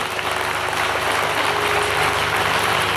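An audience applauds loudly and continuously at a cow shelter donation event, a dense, even wash of clapping with no pauses.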